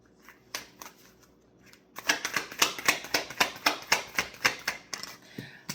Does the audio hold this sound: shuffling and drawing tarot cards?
yes